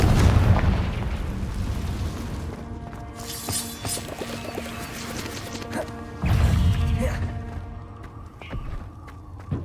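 Confringo spell blasts go off in the Hogwarts Legacy video game, loud booming bursts with crackling debris: one explosion at the start, a rumbling middle stretch, and a second heavy blast partway through.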